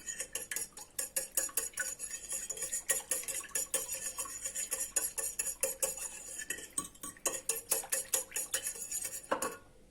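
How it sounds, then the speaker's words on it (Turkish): Oil and a pinch of salt are whisked in a bowl for a potato rose börek dough, the whisk clinking rapidly and steadily against the sides in a close, continuous rattle with no talking. "Bunları bir şöyle çırpıyorum"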